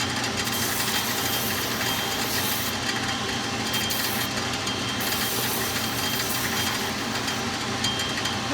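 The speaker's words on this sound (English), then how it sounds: "Just basically sand the edges until it barely touches the welt." A power sander grinding steadily against the leather edge of a shoe sole during restoration of vintage Florsheim Imperial shoes, a continuous close, harsh abrasive whir with no pauses.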